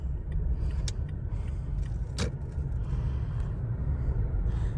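A lifted, upgraded 2016 third-generation Toyota Tacoma TRD-Pro 4x4 is driven, heard from inside the cab as a steady low road and engine rumble, with a few faint rattles and clicks.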